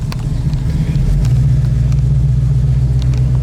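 A 1965 Ford Mustang Fastback's engine rumbles steadily and close as the car pulls away, a low continuous drone with a few brief sharper ticks, no talking over it.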